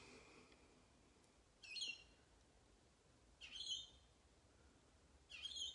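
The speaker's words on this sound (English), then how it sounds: "Hear the birds." Birds calling outside in the morning, three short bright chirping bursts spaced a couple of seconds apart, faint against a quiet background.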